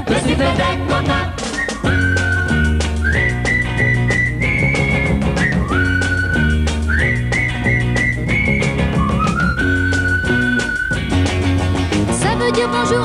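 A bright whistled call signal from a French pop song repeats in short rising phrases over a loud, full band accompaniment.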